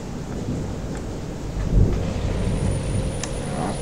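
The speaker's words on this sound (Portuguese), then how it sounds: "Aqui é o trovão, hein? Tá trovejando que só aqui." Thunder rolls in a heavy rainstorm, heard from inside a loaded Ford Cargo 2428 truck carrying oranges. A deep rumble swells and peaks partway through over the constant drone of the engine and rain.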